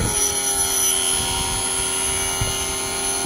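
Steady high-pitched mechanical whine with a continuous grinding hiss from a HERO EMG-01 end mill sharpener, constant and close, with a faint bump partway through.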